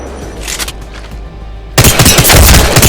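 Weapon fire in Apex Legends rings out loud and close, first as a few separate shots, then as a dense burst of rapid gunfire.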